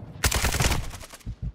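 Semi-automatic gunfire in Modern Warfare 2, a loud, close run of about eight quick rifle shots in a fast rhythm, followed by two more spaced single shots near the end.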